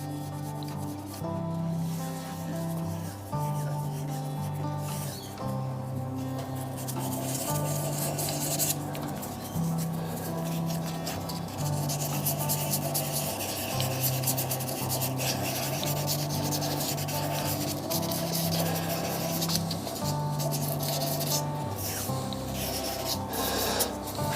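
Dry sanding of a green malachite resin shaving brush handle, a steady continuous rubbing rasp that holds close and even throughout, with a faint repeating machine hum beneath and no talking.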